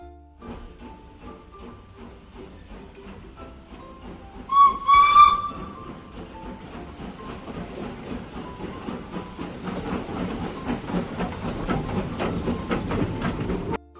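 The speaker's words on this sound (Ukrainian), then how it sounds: "Вірно, поїзд." A train rolls along with hissing steam and a brief shrill whistle blast partway through, the rhythmic clatter building toward the end.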